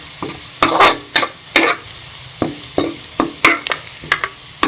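Garlic for chicken Manchurian frying in a pan, with a steady soft sizzle broken by about a dozen sharp stirring scrapes at an irregular rhythm, close and alone without talk.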